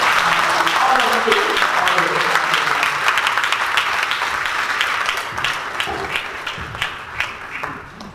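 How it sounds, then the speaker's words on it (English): An audience at a book launch panel discussion breaks into dense, steady applause that starts strong and thins into scattered claps over about eight seconds. "Let's give a round of applause to Pak Marty."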